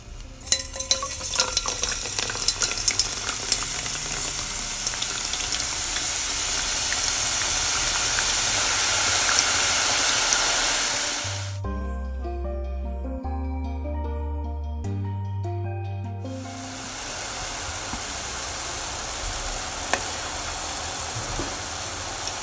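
A test drop of boondi batter in hot oil, a loud, broad frying hiss that fills most of the stretch, cut by about five seconds of music midway before the sizzle returns, with no talk.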